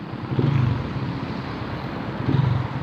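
A carburetor motorcycle engine with a delayed throttle response idles steadily, then revs in two short bursts, nearby and fairly loud against a rumbling low drone.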